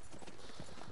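Horse hooves clip-clopping in Red Dead Redemption as a rider sets off, a quick close run of soft thuds in under a second.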